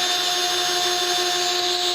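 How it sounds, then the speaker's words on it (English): A power drill with a mixer attachment whirs steadily at high speed, stirring a can of Minwax Jacobean wood stain, a continuous close motor whine with no talking. "I'm going to use my drill to kind of stir it up"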